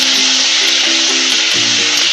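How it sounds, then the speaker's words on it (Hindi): Onion sautéing in a pan for an Indo-Chinese chilli idli dish gives a steady, loud broadband sizzle that holds evenly throughout, with a faint low hum beneath and no voices. "अब इसमें हम अनियन डाल देंगे, इसको हम 1 मिनट के लिए सॉटे कर लेंगे।"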